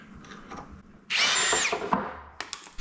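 A power drill boring into a piece of wood while building a wheelchair scale from a kit, one close, loud burst of about a second amid quieter handling clatter and small knocks.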